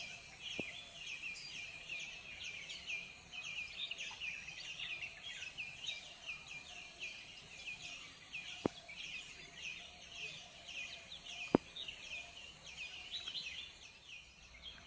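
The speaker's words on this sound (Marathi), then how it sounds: "एकदम शांतता आणि पक्ष्यांचा किलबिलाट नुसता" Birds chirp and twitter steadily through a quiet village morning, with a dense high chorus of calls running the whole time over faint insect buzz and two sharp clicks.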